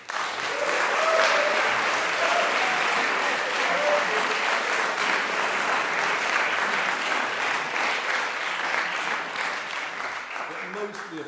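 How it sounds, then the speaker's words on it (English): School audience at a house harmony choral competition giving a long, sustained round of applause, thick and even throughout, with a few voices faintly audible beneath before it thins at the close. "A round of applause for Mr. Yo."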